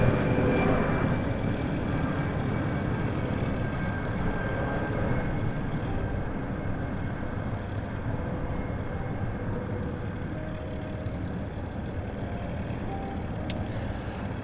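A Battle of Britain Memorial Flight aircraft departs over Rochford at Southend Airport with a steady, broad engine drone, loud at first and easing slightly as it continues for about fourteen seconds.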